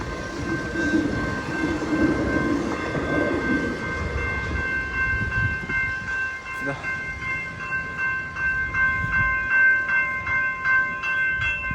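A train rolls past a level crossing on a Melbourne trip, a steady rumble of railcars with rhythmic wheel clatter in the second half and a sustained tonal whine, with people briefly speaking.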